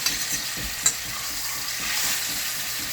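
A thick-cut chuck roast sears in a pan with a steady broadband sizzle, joined by soft rhythmic scraping or shifting and one brief sharp tick near the middle, heard close and alone without talking.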